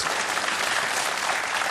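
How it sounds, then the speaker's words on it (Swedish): Studio audience applause on a Swedish televised bingo show, a dense, steady wash of clapping that fills the whole short stretch at full, even loudness. "En stor applåd för Peter Harrison."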